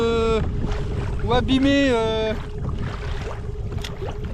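Boat motor running at sea during a sea fishing trip, a steady engine drone underneath someone speaking French close to the microphone.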